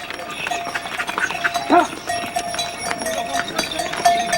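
Horses carry pilgrims along a Himalayan mountain path, their hooves clip-clopping in a loose rhythm at moderate distance amid bells and general outdoor bustle, with someone narrating over the scene.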